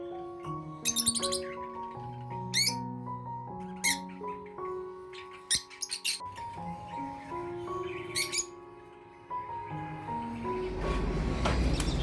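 Many small foreign cage birds chirp and tweet together in a busy aviary chorus on a bird farm, with sharp calls repeating over a steady background, growing noisier near the end.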